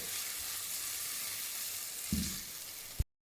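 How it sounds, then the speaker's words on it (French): Shallot frying gently in a pan, a faint steady sizzle with a soft knock partway through before cutting off. "Et là on va laisser tranquillement cuire notre échalote jusqu'à ce qu'elle devienne translucide."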